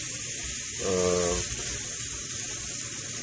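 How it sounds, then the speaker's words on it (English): Onions, garlic and the rest of a Cajun trinity fry in hot grease as a base for stuffed bell peppers, giving a steady, fairly loud hiss and sizzle throughout. A brief tonal whine rises over it near the start, and no one speaks. "You're going to fry it up a little bit just to caramelize the onions pretty much."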